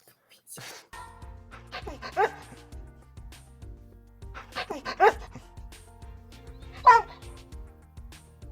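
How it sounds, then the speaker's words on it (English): A dog in a Minecraft roleplay game barks and yips in a few sharp bursts spread across the scene, fairly quiet, with soft background music and voices speaking between the barks. "Stupid dog!"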